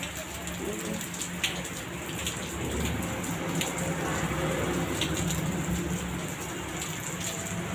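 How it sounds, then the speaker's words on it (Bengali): Heavy rain pours down steadily outdoors on a mossy road, a dense unbroken hiss with scattered louder drops close by, continuing at an even level throughout. "চলো দেখো, ঝমঝম করে বৃষ্টি হচ্ছে।"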